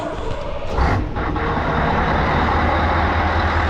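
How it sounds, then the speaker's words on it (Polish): An excavator running nearby gives a loud, continuous diesel engine rumble with a broad, steady roar that swells slightly early on, and no talking. "Słyszę jak kopara chodzi."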